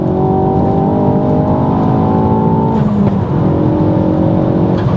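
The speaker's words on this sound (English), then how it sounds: "You can hear the overrun there popping." A Mk4 Ford Focus ST with a Dreamscience Stage 2 tune accelerating hard, engine drone climbing steadily loud and close, then a brief break where the revs fall and crackle on overrun before pulling again.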